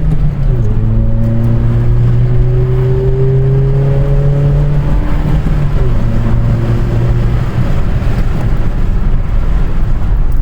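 Close, loud engine of a VW Polo Mk5 1.4 MPI/FSI with a performance air filter, revving up in a deep growl with a rising pitch that briefly drops and climbs again, heard from inside the car.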